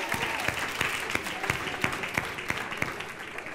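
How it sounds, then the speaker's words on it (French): Audience at a French Christian talk applauds married couples, a steady wash of many hands clapping at moderate distance, with a few sharper rhythmic claps standing out. "Ok, déjà on peut les applaudir"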